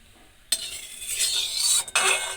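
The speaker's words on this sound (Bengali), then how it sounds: "কড়াইয়ে তেল দিয়ে চিংড়ি মাছগুলো ভেজে নেব" Prawns fry in hot oil in a wok, with a sudden burst of bright sizzling and spatula scraping that swells, briefly drops, then flares again, close and fairly loud with no talk.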